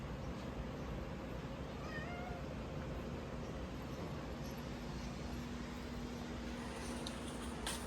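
Several house cats meow eagerly for treats indoors, a few faint mewing calls rising over a steady, fairly loud background hum, with no talking.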